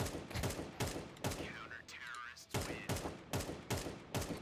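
Rapid bursts of video game gunfire crack out in quick volleys, loud and close, with a short lull in the middle filled by a ringing, swirling effect before the shooting resumes.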